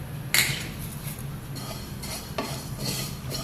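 Whole coriander, cumin, fennel, black pepper and ajwain are dry roasted in a pan, with close scraping strokes and light rattling of seeds against metal, some strokes louder than others.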